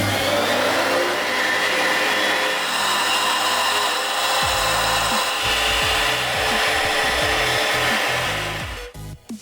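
Power tool steadily cutting a shallow channel, under a millimetre deep, into wood for a homemade marking gauge jig, a loud continuous whine with rumbling bites into the workpiece before winding down at the end, no talk.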